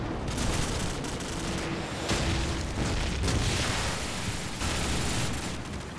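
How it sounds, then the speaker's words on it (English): Repeated airstrike explosions from Call of Duty 4 multiplayer rumble continuously as a dense, loud barrage of overlapping booms and blasts for several seconds, with no voices. "Man, I hate airstrikes."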